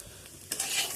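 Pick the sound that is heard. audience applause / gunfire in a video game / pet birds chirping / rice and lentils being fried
rice and lentils being fried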